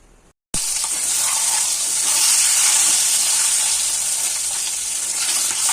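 Eggs frying in hot oil in a wok, a loud steady hiss and sizzle that bursts in suddenly and holds at close range throughout.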